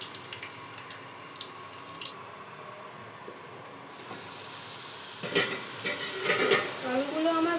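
Potatoes go into hot white oil in a wok, setting off a hiss of frying with clattering and scraping from the pan, and the sizzle swells louder midway through.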